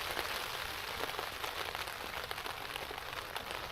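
Heavy rain drums steadily on a tent during a solo camping trip, a dense, even patter with no talking.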